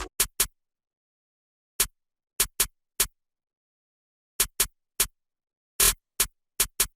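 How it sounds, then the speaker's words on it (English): Snare drum sample in an FL Studio dark trap beat, crisp broadband hits in small clusters and pairs separated by gaps, one longer accented hit near the end, played alone without talk. "Then there's a snare, sounds like this."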